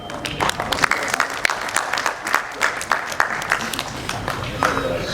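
An audience at a tribute event for poet Josh Malih Abadi in Karachi claps with irregular bursts of hand claps, some close and crisp, while someone speaks over them.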